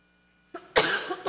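A single short cough during a church service, preceded by a quick breathy throat sound, close and fairly quiet in an otherwise still room.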